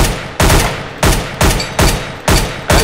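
Seven evenly spaced, loud gunshots fire at a target on a CS:GO weapons training course, each a hard crack with a short decaying tail, steady and unaccompanied.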